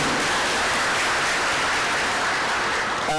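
Sustained audience applause at a university engineering college orientation, a dense, even wash of clapping filling the hall from start to finish with no talk over it.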